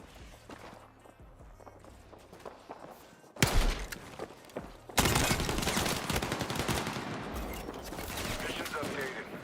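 Sniper rifle fire in a video game firefight: a sharp loud report followed by dense sustained gunfire and commotion, footsteps and movement audible underneath.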